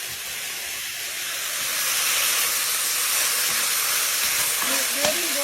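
Beef strips for pepper steak sizzle steadily in a hot pan, a loud, continuous frying hiss that builds slightly and holds, with no talking.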